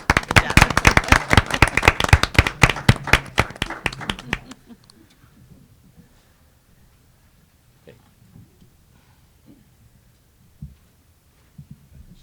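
A crowd applauds students at a school board meeting, with dense, sharp clapping for about four seconds that quickly dies away into a quiet room with faint, scattered bumps.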